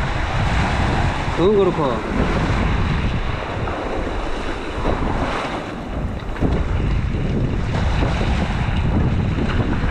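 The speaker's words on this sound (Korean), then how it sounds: "오늘 바람이 좀 세서 그냥 슬렁슬렁해도 저까지 1km 금방 갈 것 같은데" Strong wind buffets the microphone at a seaside beach near Moalboal, Cebu, over a steady wash of waves. A voice briefly speaks over the constant gusty roar.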